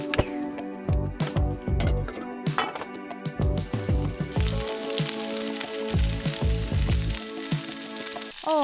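Sausages sizzle and spit in a hot frying pan, a dense crackling hiss broken by repeated sharp pops and spatters, close and fairly loud, with a faint clink of metal near the end.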